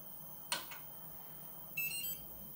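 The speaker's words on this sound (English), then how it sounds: "They're beeping the motor." A Bantam desktop CNC machine beeps through its own motor: a short tonal burst followed by a slightly longer electronic beep, thin and moderately quiet over a steady background hum.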